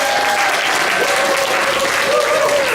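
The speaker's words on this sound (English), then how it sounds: "Can we give a round of applause to all of our honorees again?" Audience at an International Women's Day event honoring women innovators and influencers applauds the honorees, a dense, continuous burst of clapping close and loud, with some crowd voices mixed in.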